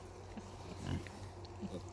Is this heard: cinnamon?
no